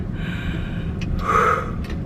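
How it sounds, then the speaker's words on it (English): Deep, slow breathing with a sharp gasping inhale, close and fairly loud against a steady low background hum, no talking. "A lot of deep breathing."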